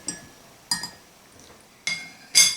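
A spoon clinks against a cup four times in short, bright metallic taps, close by, separated by brief quiet gaps.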